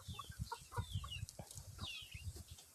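Chickens on a farm clucking softly nearby, a few scattered clucks and murmurs over a faint outdoor background, with no talk.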